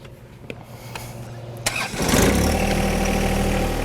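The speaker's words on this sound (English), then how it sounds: "I'm gonna jump on the tractor and fire it up." John Deere 1025R compact tractor cranking and firing up, a few clicks and a brief starter whir giving way to a loud, steady diesel idle close by.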